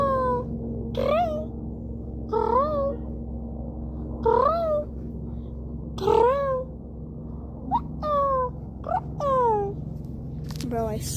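A person's voice imitates a cat, giving a series of drawn-out rising and falling meows spaced a second or two apart, then a quicker run of calls near the end.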